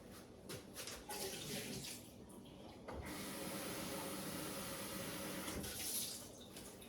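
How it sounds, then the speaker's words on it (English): Water gurgles and splashes out of a glass sprouting jar into a kitchen sink, starting in short spurts and then pouring in a steady, fairly close rush without speech. "So you're literally going to pour this out into the sink"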